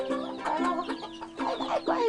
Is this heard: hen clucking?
yes